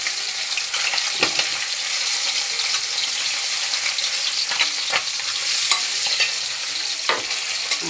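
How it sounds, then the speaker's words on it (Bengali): Small puti fish (pool barb) frying in a pan give a loud, close, continuous sizzle, with occasional scraping stirs as they are turned over. "কিন্তু আমি একটু এপিট ওপিট করে নেবো পুঁটি মাছগুলোকে"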